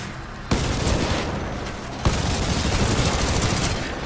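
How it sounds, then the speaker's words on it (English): Massive C4 explosions and heavy gunfire from the video game Titanfall 2, with two loud blasts about a second and a half apart over a dense, continuous roar of firing that fills the whole stretch. "I have to remember the explosions are massive in this game."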